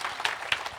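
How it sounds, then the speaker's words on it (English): A conference audience at a summit in Johannesburg claps together, a brief burst of dense applause with a few sharper individual claps standing out. "Can we please give them a big round of applause as well?"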